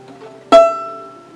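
A single violin string is plucked once near the microphone while the fine tuner is adjusted, leaving a clear tone that rings and slowly fades; other pitched tones hum faintly underneath.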